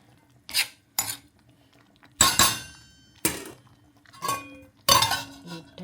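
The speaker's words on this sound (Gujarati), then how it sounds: "ફાઇનલી રાઈસ રેડી થઈ ગયું છે, તો આપણે એકવાર મિક્સ કરી દઈએ" A spoon clanks against a metal pot while cooked rice is mixed, several sharp, separate knocks and scrapes spaced irregularly, close and clear over a quiet background.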